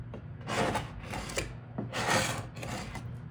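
A scraper rasps repeatedly across leftover adhesive while a car's vinyl wrap is removed, giving rhythmic gritty strokes in close-up over a low steady hum.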